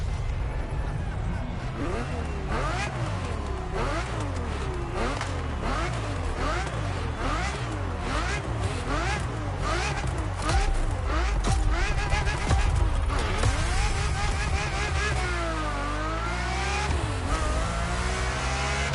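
A Ferrari F50 in The Crew Motorfest roars through repeated upshifts and downshifts, its engine note climbing and dropping in sweeping waves, loud and continuous throughout.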